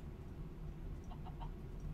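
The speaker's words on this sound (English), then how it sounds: "Chicken, stop creeping me out." Minecraft chicken clucking softly in a few short bursts over a steady low game hum, with no voices.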